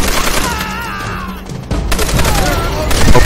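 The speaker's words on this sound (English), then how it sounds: "these guys have a really bad habit of getting in the line of gunfire" Rapid bursts of automatic gunfire and scattered shots in the video game Call of Duty: World at War, loud and dense, with game voices mixed underneath.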